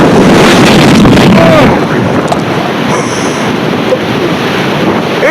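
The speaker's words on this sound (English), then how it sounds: "here comes the wind gust" Strong blizzard wind gust roaring and buffeting the microphone, a loud, dense rumble that stays heavy and continuous before easing slightly, with faint voice traces underneath.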